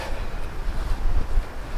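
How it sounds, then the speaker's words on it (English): Steady blustery January wind outdoors rumbling against the microphone, low and buffeting with gusts swelling and easing, no voices. "It's January, it's rather cold out, rather windy."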